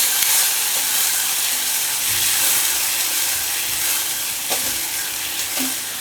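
Fenugreek leaves are stirred in a hot pan for a Vidarbha-style methi alan, with a steady loud sizzle and hiss and occasional scraping clinks of the spoon.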